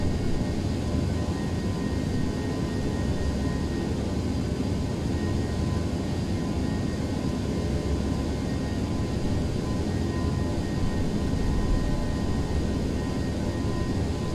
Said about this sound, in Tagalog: Mas maganda dun yung sound ng Airbus 319 compared mo sa 321.